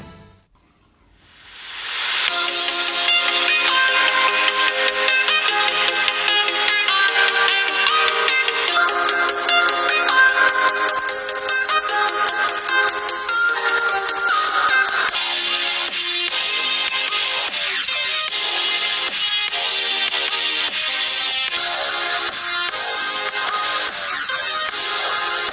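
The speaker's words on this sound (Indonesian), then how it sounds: "saat kita menggunakan speaker eksternal untuk memutar lagu" Music played through a smartphone's external speaker, from either an ASUS Zenfone 3 or an OPPO F1 Plus, rising from silence into a loud, bright, continuous tune with a thin, tinny tone that lasts to the end.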